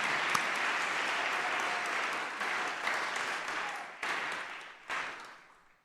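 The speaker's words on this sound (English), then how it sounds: "Let's give him another round of applause." A hall audience applauding Reverend Munther Isaac at a book launch in a Presbyterian church, sustained steady clapping that holds, then thins out and fades away toward the end.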